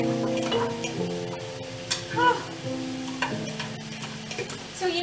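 A spoon stirs food cooking in a pan over a stove, with soft scraping and light clinks over a steady low sizzle, close and moderately loud, while tonal background sounds ring along.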